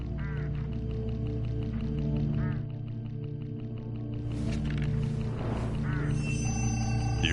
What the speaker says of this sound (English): Get enough of these crows together and it's big trouble.